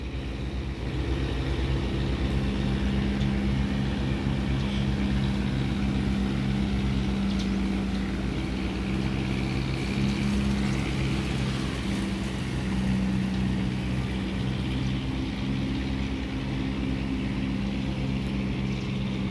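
Tugboats tow a convoy of barges along the Chao Phraya river, giving a steady, low diesel engine drone with a humming tone that carries evenly throughout at moderate distance.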